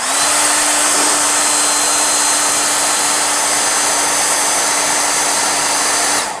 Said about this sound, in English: I'm going to dry this guy, so bear with me.